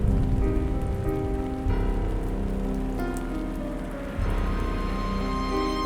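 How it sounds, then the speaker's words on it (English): Steady rain falling in the video game Demonheart, a continuous dense patter that holds evenly throughout, with soft sustained tones underneath and no voices. "As I walked out of Orchid's garden and into the street, it started raining."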